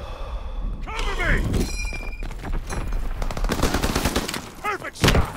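Call of Duty WWII multiplayer: sharp rifle shots and scattered gunfire crack amid battlefield clutter and radio-style voice callouts, with a loud close report near the end.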